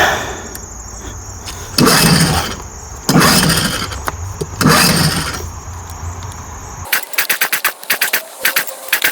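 A 1980 Evinrude 4.5hp two-stroke outboard motor is cold started with three loud pull-start bursts that churn and sputter, then the engine fires into a rapid, popping idle.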